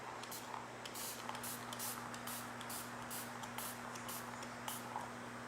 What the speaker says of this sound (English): I feel like I have the twitches when I'm trying to spray myself